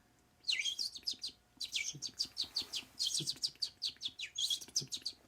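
A voice mimics goldfinch chirps in quick, high, twittering bursts that come in clusters with short pauses, fairly soft throughout.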